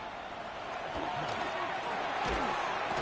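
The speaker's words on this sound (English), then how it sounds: "This crowd trying to be a factor, getting very loud now." A loud stadium crowd in the Madden 26 football video game roars as a continuous broadband wash of cheering that builds slightly, with a commentator talking over it.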